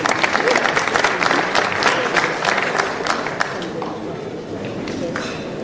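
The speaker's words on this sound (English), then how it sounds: "A clap for them, please." An audience at an awards ceremony applauds steadily, a dense wash of many hands clapping throughout, fairly loud and continuous, fading slightly toward the end.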